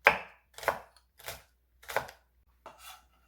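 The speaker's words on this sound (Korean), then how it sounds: "청양고추 작은 거 5개 송송송송 썰어주세요" Five crisp knife chops on a cutting board, evenly spaced about half a second apart, slicing small Cheongyang chili peppers thinly for bean leaf kimchi, with no talking.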